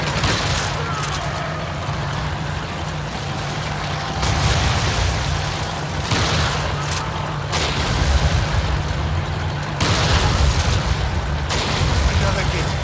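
Gunfire and explosions in the co-op video game Resident Evil 5, dense continuous bursts of shots and booming blasts at high level throughout, with players talking over the action.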